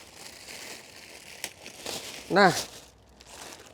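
Plastic wrapping is torn open from a new Honda Civic Type R floor mat, with soft crinkling followed by one loud ripping tear near the middle, close up, while someone speaks briefly.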